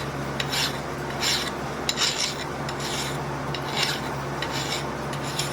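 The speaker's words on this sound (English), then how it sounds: "My file's cutting better since I demagnetized the tube." A hand file rasps across metal on a small lathe build in steady, repeated close strokes, each a bright scraping burst, with no talk.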